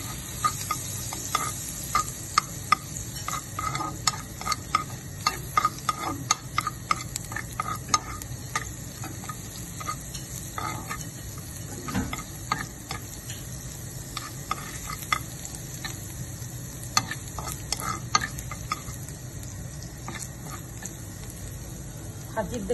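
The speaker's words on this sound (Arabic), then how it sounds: "هنزل عليها برضو بفصين من الثوم، تشويحه بسيطه خالص." Two garlic cloves sautéing lightly in a pan give a continuous close sizzle with frequent stirring scrapes and clicks throughout.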